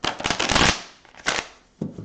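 A deck of playing cards is shuffled close by, with a long riffle burst followed by two shorter riffles and bridging flutters, heard alone.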